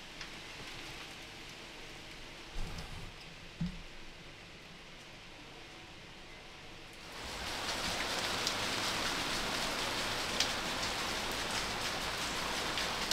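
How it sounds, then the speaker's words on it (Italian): Heavy rain falls on a camping tent, a steady hissing patter that starts softer with a few close knocks, then swells abruptly into a loud, dense downpour drumming on the fabric, with no voices. "Si è messo a piovere abbastanza forte e non posso riprendere in queste condizioni"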